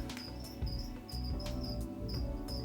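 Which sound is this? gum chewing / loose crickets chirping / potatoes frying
loose crickets chirping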